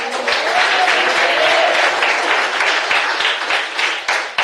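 A church congregation applauds loudly and continuously, a dense wash of many hands clapping that tapers slightly near the end.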